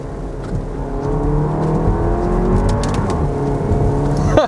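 A 2017 Porsche Macan's four-cylinder engine revs steadily while driving, a continuous throaty drone heard from inside the cabin with a brief surge near the end.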